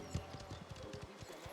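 Horse hooves clip-clop steadily on hard ground in a Mafia video game scene, a quick, even run of moderately close knocks with faint background ambience.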